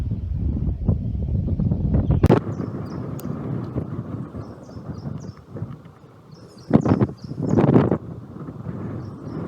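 Gusty wind roars through a mountain gap in the Grayson Highlands, heavy low buffeting with microphone rumble that eases midway, surges again, and carries faint birdsong above it.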